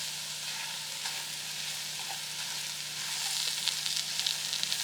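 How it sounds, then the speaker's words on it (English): Garlic fries in a pot for a potato, corn and shrimp chowder with coconut milk, giving a steady close sizzle that grows busier and crackly toward the end. "I'm now going to add the garlic"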